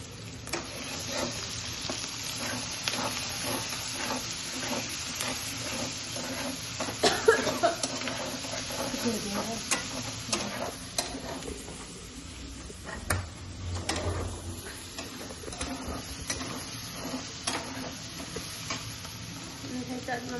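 Onion and ginger-garlic-chili paste sizzle and crackle steadily in hot oil, with a spoon stirring now and then, all under continuous talking.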